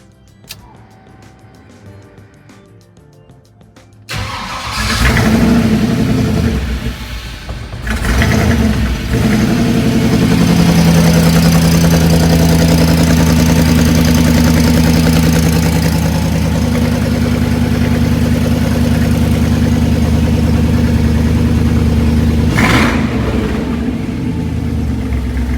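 An LS-swapped Squarebody GMC truck engine cranks and fires up, then settles into a steady, loud, close idle that runs on continuously with a slightly uneven throb.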